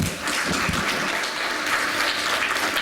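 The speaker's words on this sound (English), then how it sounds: "So, a round of applause, please." An audience applauds a speaker being introduced, a short, full burst of many hands clapping at once, steady and fairly loud with no talk over it.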